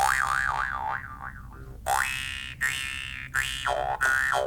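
A jaw harp twangs in a resonant, boinging tone, its pitch wobbling up and down in a quick warble before a series of longer, separate plucked notes that bend and sustain.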